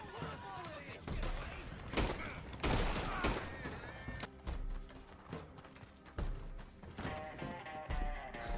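Gunfire in Red Dead Redemption 2, a series of sharp, loud shots and heavy thuds spaced irregularly, with people talking between and over the blasts.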